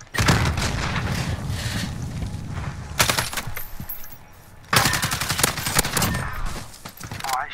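Rapid bursts of automatic gunfire in a multiplayer shooter video game, loud and close, with long sustained volleys broken by short pauses, over constant game noise.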